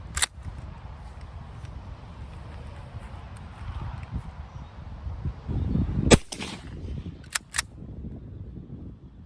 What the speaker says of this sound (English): we're gonna shoot one more round at 35, see how we do with the full choke